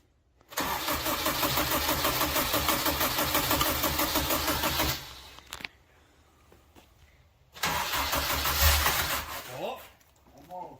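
A Honda K20 engine swapped into a Mazda Miata cranks over in two long bursts, each a loud, rhythmic churning of the starter lasting several seconds with a quiet pause between them.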